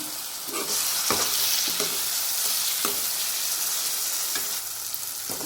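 Moong dal, soaked and then fried, sizzles steadily in a pan while a spoon scrapes and stirs it in several distinct strokes, close and fairly loud with no voices over it.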